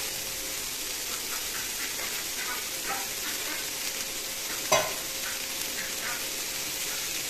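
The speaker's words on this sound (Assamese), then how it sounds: "এইখিনি এনেকৈ আকৌ 2 মিনিট সময় ভাজিলোঁ" Steady sizzle of food frying, with intermittent stirring scrapes and one sharp utensil clack partway through.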